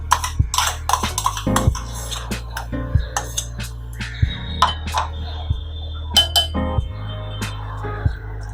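Curd marinade being stirred with Kashmiri red chili, ginger and garlic paste, a spoon tapping and clinking against a bowl in quick irregular strokes, close and fairly sharp, with no talk.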